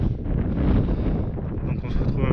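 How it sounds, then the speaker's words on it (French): Strong wind buffets the microphone on a hillside near the Lajares volcano on Fuerteventura, a loud, continuous rumbling gust lasting throughout. "Alors il y a pas mal de vent, je sais pas si vous allez entendre ou pas"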